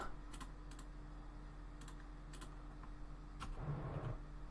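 Computer keyboard typing during a space flight game session: a few scattered quick key clicks over a low steady hum, then a brief busier burst of keystrokes, no voices.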